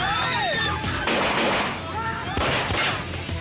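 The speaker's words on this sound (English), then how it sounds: "Razak reacts to the sound of gunfire." Bursts of gunfire crack through a loud, chaotic scene, with rapid shots and clattering noise filling the whole stretch.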